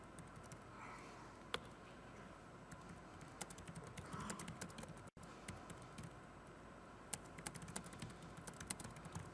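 Fingers tap on a computer keyboard in scattered bursts of quiet, crisp keystrokes, faint against a busy room hum backstage at a tech conference, with one brief dropout midway.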